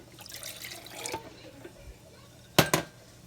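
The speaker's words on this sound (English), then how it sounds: "I'm going to pour some water in here." Water is poured into a container while lasagna is being made, with soft splashy pouring early on and a louder, brief burst of liquid near the end.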